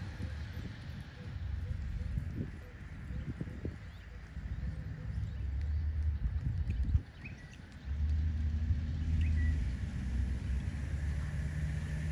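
A horse cantering on a flat arena during a riding lesson, its muffled, rhythmic hoofbeats rolling steadily under a low rumble of wind and outdoor noise.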